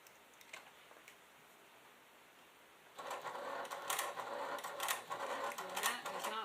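A home sewing machine top stitching a clutch with black thread, its bobbin not seated properly: quiet at first, then a rapid rattling mechanical whir with ticking stitch pulses for several seconds, close and fairly loud.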